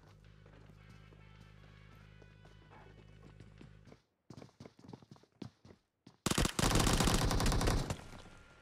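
Gunfire erupts in a battle-royale esports video game match, with scattered sharp shots breaking a low rumbling background before a sustained, loud burst of rapid firing near the end.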